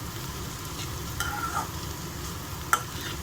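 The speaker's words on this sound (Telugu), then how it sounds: "తర్వాత ఇందులో ఇప్పుడు మనం పెసరపప్పు తీసి పెట్టాం కదండి, అది కూడా వేసి ఫ్రై చేద్దాము." Moong dal (split yellow lentils) stir-fried in a pan with chili powder, salt and radish, giving a steady low sizzle with faint scraping stirs and one sharp utensil tap near the end.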